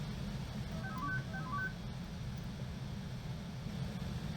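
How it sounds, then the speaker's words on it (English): The extruder stepper motor on a desktop injection molder chirps a brief run of short tones at shifting pitches, faint and quick, over a steady broadband hiss and low hum. "you can hear the stepper motor running a small audio profile with different frequencies"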